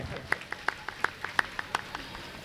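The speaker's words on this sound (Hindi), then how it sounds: "तो जब का भी राजी तो एक बार जोरदार ताली चाहूं आप सबके।" Sparse, distinct handclaps from an audience at a Ramayana recitation gathering, about a dozen sharp claps in a loose, uneven rhythm, fairly faint and heard without talk over them.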